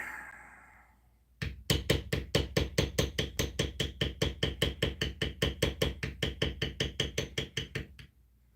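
A beveler tool is struck repeatedly on leather during tooling, a long close series of about thirty evenly spaced knocks in a fast, steady rhythm after a short quiet start.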